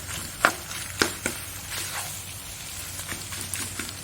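A spoon stirs melted cheese through a big pan of macaroni for makaroni goreng, giving a few sharp scraping clacks over a low steady sizzle, close and fairly quiet, with no talking.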